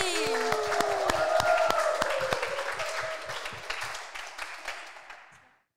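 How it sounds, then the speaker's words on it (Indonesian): A studio audience at a preaching talent competition applauding a contestant, dense clapping that starts loud under a voice and gradually thins and fades out to silence. "Oke, berikan tepuk tangan sekali lagi untuk Kak Andi."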